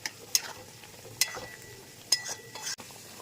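Chicken dopiaza with yogurt sautés in a pan, a low, soft sizzle under a few sharp metallic clinks and scrapes of a spoon stirring against the pan, spaced out and heard up close.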